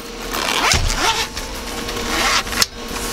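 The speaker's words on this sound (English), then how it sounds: "The zip test," A pencil case holding color pencils is zipped with one smooth, close, fairly loud zipper pull that runs for a couple of seconds and ends with a short snap, with no talking.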